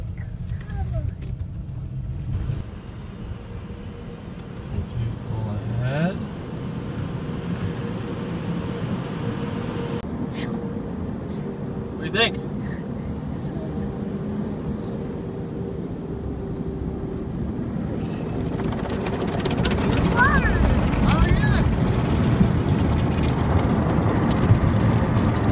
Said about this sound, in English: It's a big car wash.